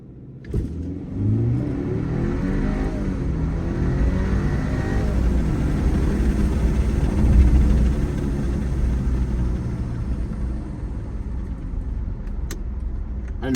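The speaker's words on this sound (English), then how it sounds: "It had some pretty good turbo noises when you punch it." A 2024 BMW 530i xDrive in sport mode accelerates hard at night, its engine droning steadily from inside the cabin with a rising pitch and faint turbo whoosh, continuous and moderately loud without talk.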